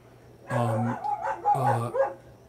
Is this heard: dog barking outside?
yes